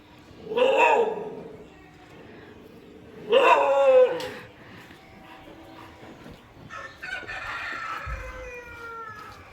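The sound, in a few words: dog David barking at Raja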